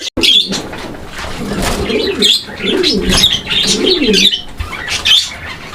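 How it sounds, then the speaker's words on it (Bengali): Fancy pigeons coo repeatedly in a close, loud, rhythmic series of low rolling calls, with a few higher chirps and some rustling between them. "কবুতরটার ডাকটা আমরা শুরুতেই আপনাদেরকে দেখাই দিচ্ছি"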